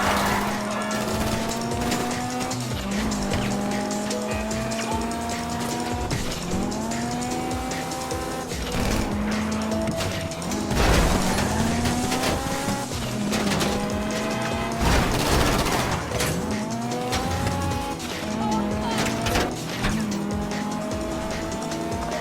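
A heist car in GTA is driven hard, engine revving up and down through repeated gear shifts with squealing tires and occasional impacts, loud and continuous throughout, with faint game voices underneath.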